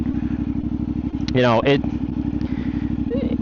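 A motorcycle idles with a rapid, even engine thump, then briefly revs up and settles back as the rider eases out of the friction zone in first gear during a beginner riding lesson.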